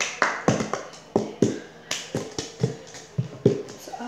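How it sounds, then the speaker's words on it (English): Cup song rhythm performed on a table: sharp hand claps alternating with hollow cup taps and knocks in a steady repeating pattern, close and crisp, with no talking. "So first you're gonna do clap, clap, table, table"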